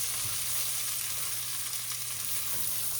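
Carrots tumble into a pot of sizzling bacon, giving a steady, close frying hiss that runs unbroken and loud throughout with no voices.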